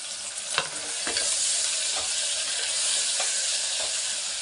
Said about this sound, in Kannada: ಇದೊಂದು ಸ್ವಲ್ಪ ಫ್ರೈ ಆಗಲಿ. ಈಗ ನಾನು ಟೊಮೊಟೊ ಹಾಕೋತಾ ಇದ್ದೀನಿ.